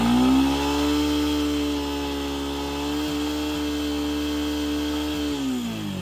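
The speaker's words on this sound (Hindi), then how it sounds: "फुल थ्रोटल देने के बाद भी 8000 आरपीएम से ज़्यादा जा नहीं पा रहा है" A Yamaha FZS V3 motorcycle engine holds a steady, loud high-pitched drone at full throttle, stuck near 8000 rpm and unable to climb higher, then eases off at the end.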